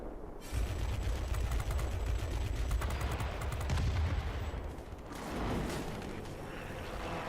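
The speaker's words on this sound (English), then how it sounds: "the XF5U is equipped with the infamous M39 cannons" The M39 cannons of an XF5U fighter in World of Warplanes fire in long, rapid, rattling bursts, loud and close, with a deep rumble beneath before easing off near the end.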